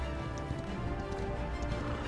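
Horse hooves clip-clopping in the game Paladins: a rapid, continuous patter of hoofbeats while riding a mount, fairly close and steady, mixed with low game rumble and a faint tonal hum.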